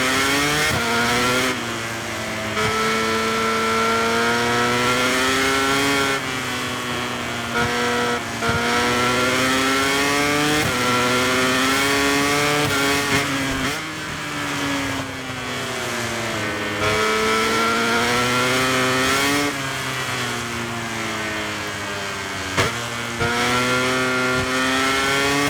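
A racing motorcycle engine in the MotoGP video game drones continuously, its pitch rising and falling in repeated sweeps as the bike accelerates and shifts. The sound is loud and close, with no talk over it.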